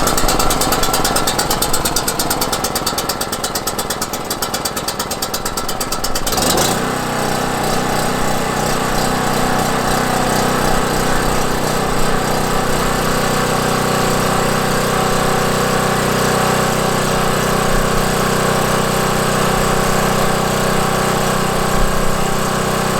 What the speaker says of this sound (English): Alright, fire up generator.